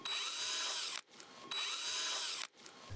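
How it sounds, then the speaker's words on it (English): A power drill bores small pilot holes for hinge screws in wood, two loud sustained whirring bursts about a second each with a brief pause between them, close by and without talk. "we'll drill pilot holes and put in the screws"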